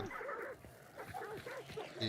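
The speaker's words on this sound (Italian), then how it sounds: "i cani. Lo so, gli butto qualcosa per farli stare zitti." Dogs barking in a hunting video game, several yips and whimpering barks in quick succession at moderate distance, with voices talking over them.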